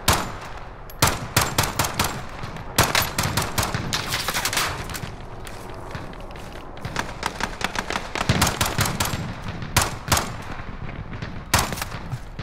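Pistol gunfire in Call of Duty Warzone, with many sharp close shots in irregular clusters and rapid strings, some spaced out and some fast, over a background of game rumble across the whole stretch.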